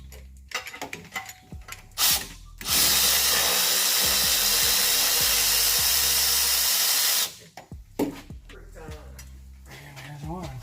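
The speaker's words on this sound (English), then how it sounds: "Now, get in here with the electric ratchet." Electric ratchet whirring steadily for about five seconds while loosening transmission bolts on a 2019 Chevy Silverado with a 6L80 transmission, close and loud, with clanks and handling noises of the job before and after.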